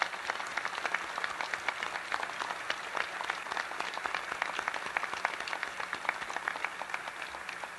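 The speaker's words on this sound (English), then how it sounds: "just a round of applause for them who run the program" An audience at a submarine keel-laying ceremony for the USS Arizona applauds continuously, dense steady clapping from a sizeable crowd with no voices over it.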